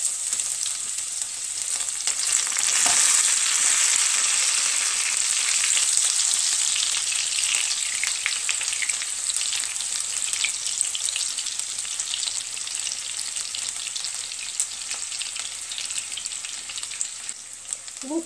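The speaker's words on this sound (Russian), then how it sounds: "Теперь ложим лук и обжариваем." Onions frying in a pan for a duck and sauerkraut shchi give a steady, close sizzle that swells briefly early on, then settles into an even, continuous hiss with no talk.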